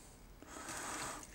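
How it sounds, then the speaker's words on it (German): Water pouring into the tank of a Grundig UC 5020 ultrasonic cleaner, a soft, steady splashing hiss that swells after a brief start and runs continuously, close by and fairly quiet. "wir füllen jetzt hier einfach mal Wasser rein"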